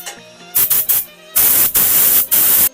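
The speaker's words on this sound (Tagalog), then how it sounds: "bubugahan na natin ang second coating" A spray gun lays a second coat of paint onto a motorcycle gas tank in loud hissing bursts, several short sprays followed by longer sustained passes, close and alone.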